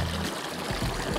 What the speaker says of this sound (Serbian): imam sad pravu priliku da se napijem čiste vode iz rečice